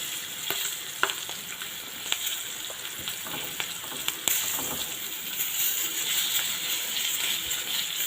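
Green chillies frying with cumin in a pan, North Karnataka style: a steady close sizzle and crackle runs throughout, broken by a few sharp spatula scrapes and taps against the pan.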